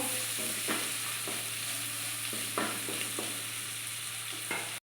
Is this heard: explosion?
no